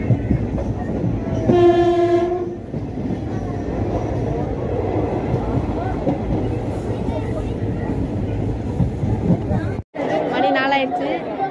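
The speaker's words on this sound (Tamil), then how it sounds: "ட்ரெயின் போய்கிட்டு இருக்கு பாருங்கள்" A train rumbles past nearby, its horn sounding loudly early on and again near the end, while people chatter in the background.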